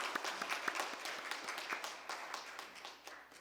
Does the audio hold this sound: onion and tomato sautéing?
no